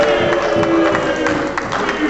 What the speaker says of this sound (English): Fans applauding